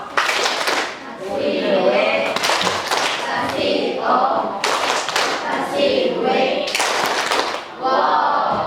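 A classroom of students performs a rhythmic clapping cheer, with bursts of group claps in a patterned beat and voices chanting along between and over the claps.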